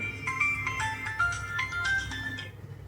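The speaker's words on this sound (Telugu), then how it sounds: "రింగ్ అవుతుంది ఏంటి" A phone ringtone plays a repeating electronic melody of bright beeping tones, fairly loud and close, stopping abruptly near the end.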